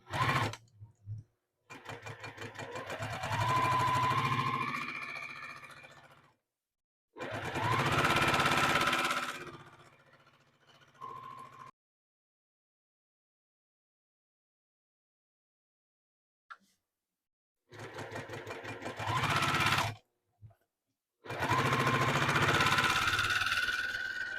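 A sewing machine stitches the first row of a quilt seam with a quarter-inch allowance, running in four loud, steady bursts of a few seconds each with short pauses and one long silent gap between them.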